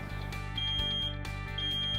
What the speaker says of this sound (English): check your smoke alarms once a month by pressing the test button